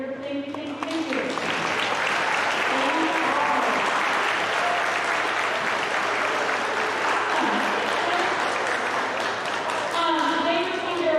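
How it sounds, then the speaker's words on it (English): A crowd applauds school music students at a middle school awards event, steady loud clapping filling the room throughout, with some voices mixed in. "let's give a round of applause to a great year"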